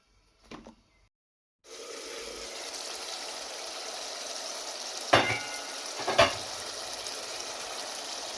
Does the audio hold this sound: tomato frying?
yes